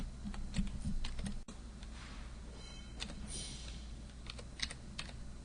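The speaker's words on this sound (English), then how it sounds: "here you need to type in that serial number" Computer keyboard typing while a serial number is entered during a software installation, a run of close, light key clicks in quick uneven bursts over a low steady hum, with no talking.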